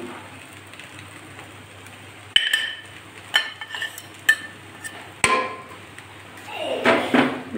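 Fried egg, potato and chili being stirred into Maggi noodles in a pan: scattered metallic clinks and scrapes of a utensil against the pan, irregular and close, over a faint background hum.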